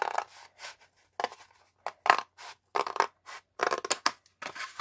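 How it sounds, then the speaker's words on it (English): Scissors cutting paper for a Christmas journal craft, a run of short crisp snips and slices coming in bursts with brief pauses between, close and fairly quiet with no talking. "So I'm gonna cut it on 2 pieces."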